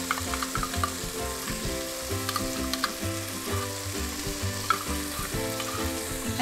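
Fish fillet sauce sizzling and frying in a pan while being stirred, a steady crackling hiss with scraping and clinking over a low, irregular pulse, close and continuous.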